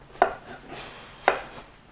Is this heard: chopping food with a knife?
yes